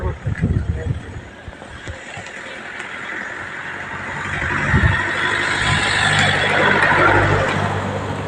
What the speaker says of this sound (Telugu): కారు ఒకటి వస్తుంది